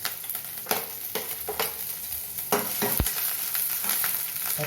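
Green chilies sautéing in oil for sambar, an even sizzle broken by repeated spoon strokes and scrapes against the pan, close and moderately loud, with no talking.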